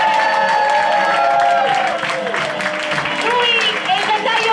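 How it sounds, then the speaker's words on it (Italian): Audience applause with scattered cheers at a team poetry slam, sounding under a strong voice that carries over it throughout. "Voglio un applauso fragoroso per Alessandra Racca!"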